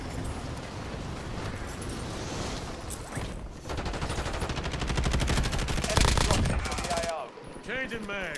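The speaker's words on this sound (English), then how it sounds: "Taking intensive fire" Sustained automatic gunfire fills a Call of Duty Warzone match in Verdansk, rapid rattling bursts that build into a dense fusillade, with a voice talking over parts of it.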